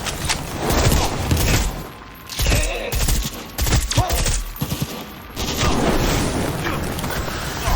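Gunfire cracks and booms in the Cyberpunk 2077 video game, a dense, chaotic run of loud shots and impacts with brief pauses. Voices talk amid the firing.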